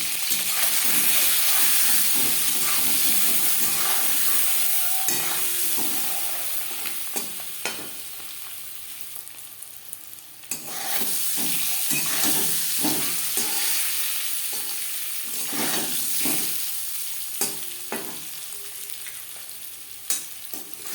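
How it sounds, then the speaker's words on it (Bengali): Eggs frying in a pan for egg curry, a steady close sizzle with hiss, broken by frequent sharp scraping and stirring clicks, dipping briefly midway before resuming, no talk. "ডিম ভেজে নেওয়া হয়ে গেছে"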